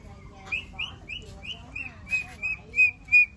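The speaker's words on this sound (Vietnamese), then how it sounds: "Chim chè chua, chim gạo." Small birds, chè chua and gạo birds, call in a rapid run of high chirps and whistled notes, fairly close and growing louder toward the end, over a low murmur of background noise.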